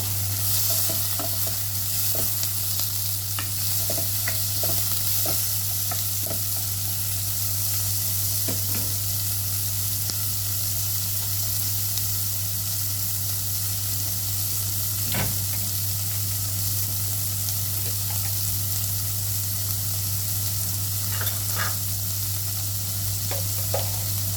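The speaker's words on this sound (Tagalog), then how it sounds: "Paghalo-haloin lang ito guys." Chicken liver gesado fries in a pan with a steady, loud hiss of sizzling oil. Spoon strokes tap and scrape now and then as it is stirred, and a constant low electrical hum runs underneath.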